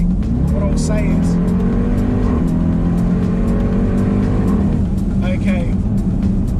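A Jeep Grand Cherokee Trackhawk's 707-horsepower engine accelerating hard in track mode, revving loudly with rising pitch, a shift shunt near the redline, then climbing again, while someone talks over it.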